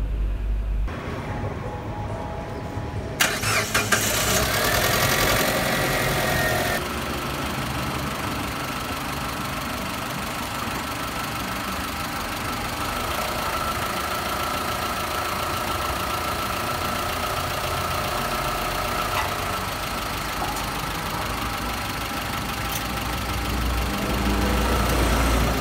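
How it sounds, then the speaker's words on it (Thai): A car engine whose timing belt has slipped runs steadily for a long stretch, with a loud mid-pitched drone and a rough, uneven knocking texture. A brief clunk and shift in tone come near the start, and there is no speech. "เดี๋ยวมาฟังเสียงเครื่องพร้อมกันเลยดีกว่านะครับผม"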